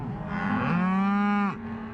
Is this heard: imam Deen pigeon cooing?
no